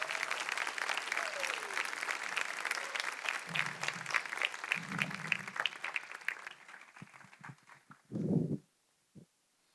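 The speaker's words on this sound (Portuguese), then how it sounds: "Receba com palmas e muito vigor o nosso palestrante Juarez Gustavo" Applause fills a lecture hall as a speaker is welcomed, many hands clapping loudly and continuously for several seconds, then tapering off into scattered claps, a few low thumps and brief stray noises before falling quiet.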